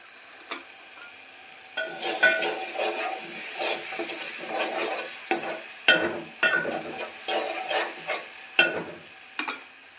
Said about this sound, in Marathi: हळद टाकून हलवून घ्यायचं आहे